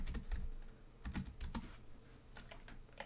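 Quick, light keystrokes on a computer keyboard as a name is typed, in short irregular bursts, close and quiet.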